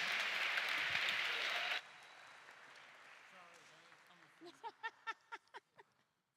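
Audience applause for a band at a Juneteenth jazz benefit concert, a loud burst of clapping that cuts off abruptly. Afterward a voice speaks quietly in the room.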